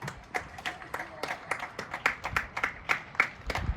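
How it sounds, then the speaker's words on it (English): A crowd claps for the NHS, heard as many scattered hand claps in an uneven, continuous patter at moderate distance. "This is people clapping, one hand clapping for the NHS"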